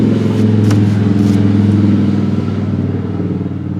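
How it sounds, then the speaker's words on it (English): Loud Harley-Davidson motorcycle engines rumble past nearby, a deep throaty growl that swells and then gradually fades as they move away. "Oh, the motorcycles are out. The Harley guys."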